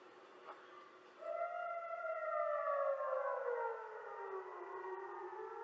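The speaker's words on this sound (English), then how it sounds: "Is a siren when the Hamas rocket coming to Israel." Israeli rocket warning siren wailing, rising in and holding a long sustained tone with layered harmonics, then slowly falling in pitch as it fades, carrying loud across open distance.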